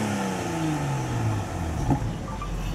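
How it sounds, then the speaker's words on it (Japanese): A Toyota Supra engine, revved while parked at the 2019 Tokyo Motor Show, revs up and then winds down, its pitch sliding lower, loud and close throughout with no talking. "エンジン空ぶかしましょうか"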